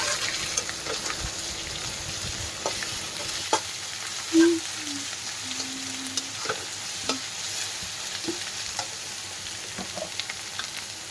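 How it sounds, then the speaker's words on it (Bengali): Onions frying in a pan for a crab curry, a soft continuous sizzle with scattered clicks of stirring and one brief louder scrape, close but low in level. "এবার পেঁয়াজগুলোকে ফ্রাই করা হচ্ছে।"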